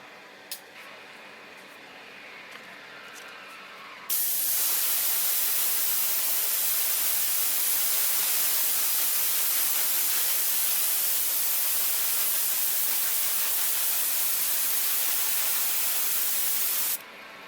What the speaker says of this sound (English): I have loaded up my airbrush with Mr. Color 32. This is dark gray.